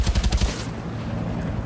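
Rapid bursts of automatic gunfire from a heavy-recoil gun in a video game, about seven or eight loud, close shots in quick rhythm that stop abruptly, leaving a lingering low rumble.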